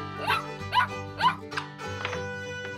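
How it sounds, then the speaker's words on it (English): A dog barks several times in a short, evenly spaced series, fairly close, with a soft musical backing underneath. "This is the dog that protects the farmhouse animals."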